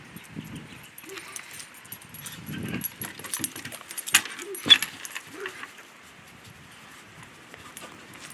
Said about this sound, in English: Hendrix and Georgie have gone down to the fence line to bark the neighbour